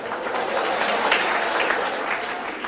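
Students clap together in a lecture hall, a dense, steady wash of applause that holds at an even level throughout, with no talking over it.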